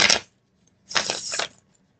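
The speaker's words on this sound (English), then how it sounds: "One more shuffle here." Tarot cards are shuffled by hand in two quick, crisp riffling bursts with a short silent gap between them. The sound is close and fairly quiet, and no one talks.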